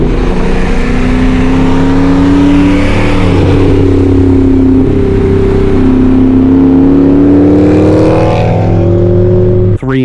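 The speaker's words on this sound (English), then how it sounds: "And now with this exhaust, it's the Magnaflow Xmod, and really there's no mufflers, no resonators." V8 Hemi car fitted with a Magnaflow Xmod exhaust with no mufflers or resonators, revving loudly up close with a deep, throaty drone that rises and falls several times over ten seconds.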